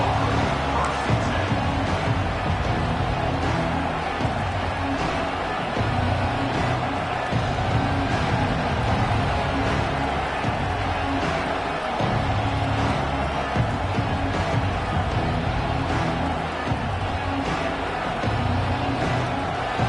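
Steady, dense roar of a stadium crowd in a college football video game, Clemson against Tennessee, holding loud and continuous throughout with faint swells.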